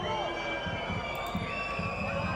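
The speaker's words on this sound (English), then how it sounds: "Cheers from the crowd." A crowd cheers at a rugby match between Zebre and the Stormers in the United Rugby Championship, a broad, steady roar with a voice talking over it.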